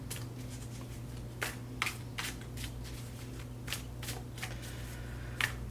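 Soft riffling of playing cards being shuffled, several quick bursts spaced a second or so apart, quiet and close, over a low steady hum.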